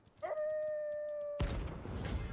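In the video game Final Fantasy XVI, a dog pack gives one drawn-out howl with a steady pitch, moderately close, before a burst of rough noisy combat-like sound takes over.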